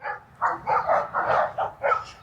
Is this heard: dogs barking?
yes